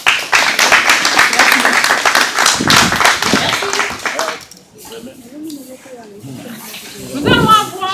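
A crowd at a job-creation programme event bursts into dense, sustained clapping for the skilled workers, then the applause fades and a voice carries on speaking.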